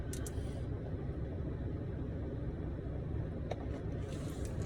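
A car pulls out and drives on, its steady low engine and road rumble filling the cabin with a constant hum and a few faint clicks inside the vehicle.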